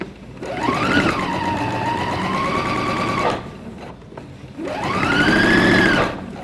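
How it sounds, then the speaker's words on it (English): A sewing machine stitches a double hem with contrast thread, running in two steady, loud whirring bursts close by, separated by a brief pause. "So I've pressed the first turn and now I'm going to stitch all the way around."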